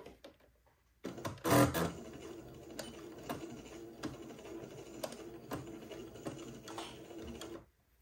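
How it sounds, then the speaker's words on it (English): Sewing machine sewing a straight stitch forward and backward at the placket of a Christmas bishop dress, a brief louder burst followed by a steady close whirring hum with soft clicks, stopping abruptly at the end. "I'm going to go forward and backward a couple of stitches right there at my blue mark"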